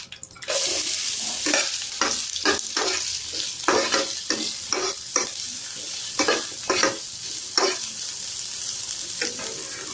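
Sliced onions, with fennel seeds and bay leaf, fry in hot oil for a mushroom gravy, a steady loud sizzle broken by many sharp scrapes and clacks of a spoon stirring against the pan, with no talking.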